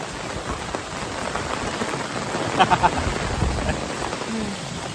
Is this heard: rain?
yes